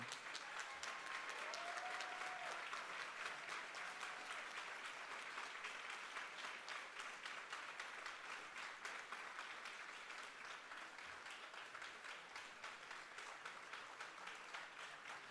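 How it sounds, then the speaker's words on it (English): Sustained, dense audience applause fills a People's Summit hall, loud and steady throughout with no pauses, a continuous wash of many hands clapping at once. "Can we have a large round of applause for Comrade Andrónico?"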